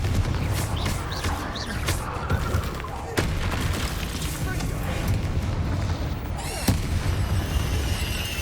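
Confringo blasting spells exploding in the Hogwarts Legacy video game, several sharp booms at irregular intervals over a dense, rumbling bed of game combat noise.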